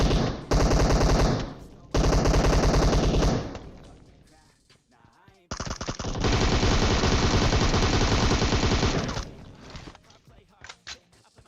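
Long bursts of rapid automatic gunfire from a PUBG Mobile match, loud and close, broken by a brief pause and a quieter gap before a second sustained volley.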